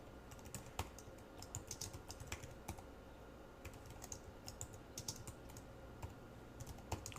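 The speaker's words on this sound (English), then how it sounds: "we can just start typing in some strings" Typing on a computer keyboard during a JavaScript and jQuery coding lesson, quiet close-up key clicks in irregular bursts with short pauses, alone without speech.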